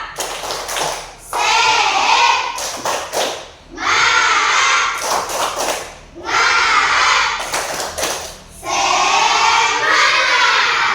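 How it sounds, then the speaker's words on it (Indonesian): A school class performs the rhythmic tepuk semangat spirit clap, with repeated patterns of sharp group claps and taps alternating with bursts of loud, cheering voices in a classroom. "Tepuk semangat."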